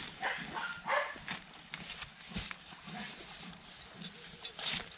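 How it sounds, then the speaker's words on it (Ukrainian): A few short dog barks come from some distance outdoors, scattered among footsteps and rustling. "Що це за собака-то?"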